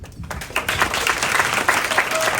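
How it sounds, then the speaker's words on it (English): Warm applause from an evening film festival audience in Wiesbaden for a woman named Helene, rising after a brief quiet start into steady, moderately loud clapping with a few sharper individual claps. "I think that rewards a very warm applause for Helene"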